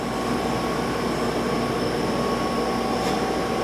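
A 12 x 24 inch Clausing Equiptop three-axis automatic surface grinder made in Taiwan runs with hydraulics and coolant on, giving a steady, loud, continuous mechanical hum and whir with a faint tonal whine.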